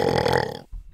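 A long, loud, resonant burp from a young man lasts most of a second close to the microphone, then breaks off into a short low grunt.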